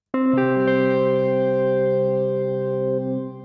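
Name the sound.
shimmer delay with high regeneration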